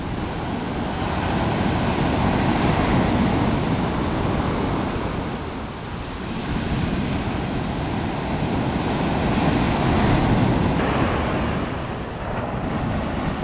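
Steady, heavy roar of ocean surf washing onto a beach below eroding cliffs on Portugal's Silver Coast, with slow swells in loudness and some wind buffeting, no voices.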